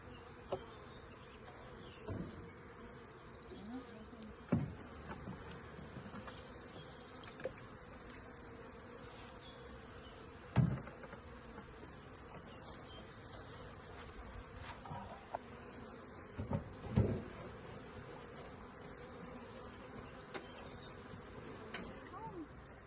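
A steady hum of many honeybees buzzing at a hive fills the air, with occasional louder bumps and faint voices in the background.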